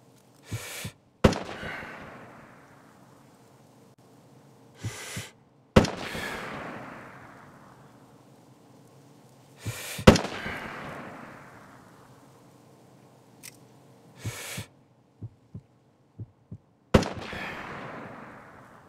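Rifle fire on a firing range in the video game America's Army 3: about half a dozen sharp, loud shots spaced several seconds apart, each with a long echoing decay, plus a few faint clicks between them.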